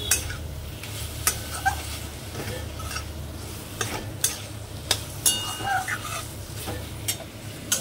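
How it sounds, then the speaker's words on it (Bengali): Mushrooms and onion sauté with spices in a pan, giving a steady close sizzle with repeated sharp scrapes and clinks of a spatula stirring through, and no one talking. "এটা আবার মশলার সাথে একটু কষবো, একটু ঢাকা দিয়ে দিয়ে কষলে ভালো হয় জানো"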